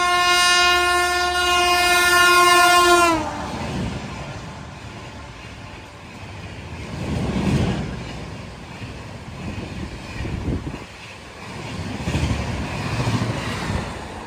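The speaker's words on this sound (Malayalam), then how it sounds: "ഹൗഡ ന്യൂ ജൽപൈഗുഡി ശതാബ്ദി ഇതുവഴി കടന്നു പോവുകയാണ്" A train horn blares loudly for a few seconds, then the Howrah–New Jalpaiguri Shatabdi Express rushes past with a rumbling, rhythmic roar of wheels that swells and fades.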